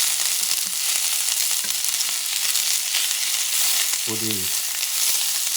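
Chicken gizzards sizzle steadily in a hot pan, a constant frying hiss running throughout with occasional scraping stirs and a brief clatter near the end; a voice speaks a couple of words.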